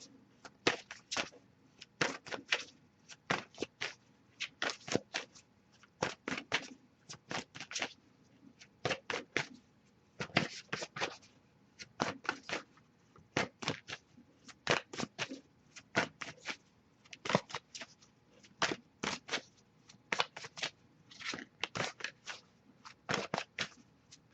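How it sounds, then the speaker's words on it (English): Repeated crisp riffling bursts of a deck of cards being shuffled, about one quick flurry every second, close and steady with no talking. "I'll give it a few more shuffles, see if we get anything"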